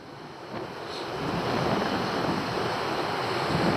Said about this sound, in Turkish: Aa rüzgar çok